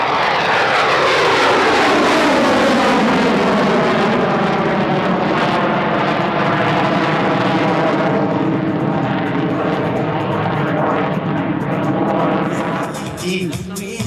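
A French Air Force Mirage 2000C jet fighter lands and brakes on the runway at Radom airfield during a display: a loud, continuous engine roar with a sweeping, shifting tone that fades slightly at the end.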